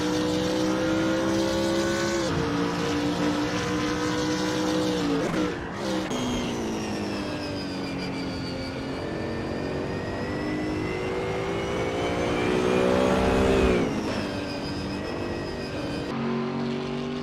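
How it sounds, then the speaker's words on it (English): BMW Z4 race car engine in the Assetto Corsa racing game, a loud sustained high-revving drone with gear shifts and pitch dips, continuous and close throughout. "Dominic Faubart from United Kingdom in Rettilineo is P3 driving a BMW Z4"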